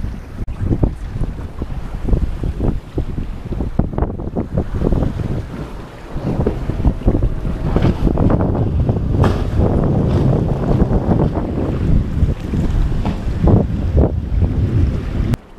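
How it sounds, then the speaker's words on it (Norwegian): Gusting wind buffets the microphone while waves slap and wash around a sailing boat in choppy, confused seas off the Norwegian coast, a steady, fairly loud roar throughout with no voices. "Det blir bølger fra alle vindretninger."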